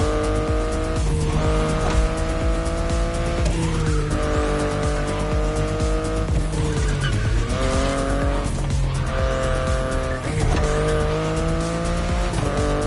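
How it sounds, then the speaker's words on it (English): A BMW i8 hybrid sports car drives continuously and loudly, its engine tone rising and falling in repeated sweeps, with tire squeal mixed in, and no voices. "The BMW i8 is a car that stands out from the crowds."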